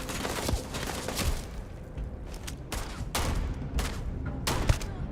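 Gunfire in the space shooter game Starfield comes in several quick bursts of sharp shots separated by brief pauses, with a continuous rumbling game background underneath.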